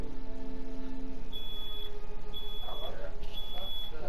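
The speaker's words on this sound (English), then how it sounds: "Smoke alarm!" Repeated electronic beeps from a smoke alarm inside The Last of Us video game, sounding at a steady interval over a continuous game ambience and hum, with a voice speaking briefly.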